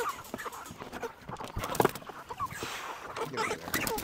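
Chickens clucking inside a hoop structure used for raising poultry, a busy cluster of close, overlapping calls and squawks of moderate loudness with scattered rustling between them.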